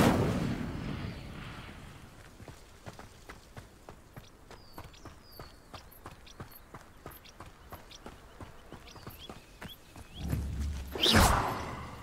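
An Incendio fire spell cast in Hogwarts Legacy bursts out in a loud, brief rushing blaze near the end, after a stretch of quiet, evenly ticking footsteps.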